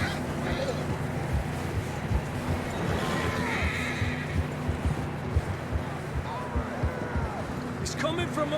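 A horse whinnies in Red Dead Redemption 2 over a steady game soundscape with background chatter and music, a couple of short neighs rising and falling mid-clip.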